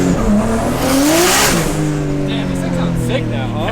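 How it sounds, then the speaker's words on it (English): A turbocharged BMW S54 engine in a drift car roars at high revs, loud and continuous, with rising and falling pitch as it accelerates, tyres squealing and skidding over the engine noise. "The Turbo S54 makes good power. It's a lot of fun. And the sound,"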